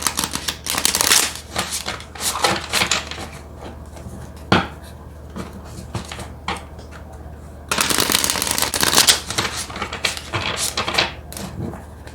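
Tarot cards are shuffled in repeated crisp riffling bursts, close and fairly loud, with quieter handling and a single sharp tap between the two main shuffling spells.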